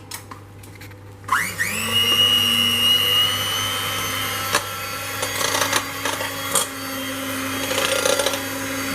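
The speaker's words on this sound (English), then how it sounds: "We're just going to turn it on the socket now, and now we've replaced those bits, and we'll give it a try." An XIAOCAI electric hand mixer is switched on and whirs at a close, steady motor whine, with occasional clatters and knocks as the beaters move.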